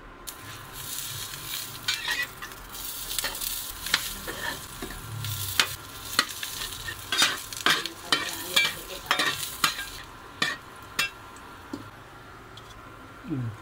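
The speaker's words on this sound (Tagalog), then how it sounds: "Siguro mga 100 degree okay sa pagprito ng itlog. Sangag naman." Sinangag (garlic fried rice) stirred and fried on an Imarflex IDC-1810 infrared ceramic cooker, with a repeated scrape-and-tap rhythm of the spatula over a soft sizzle, close up and without speech.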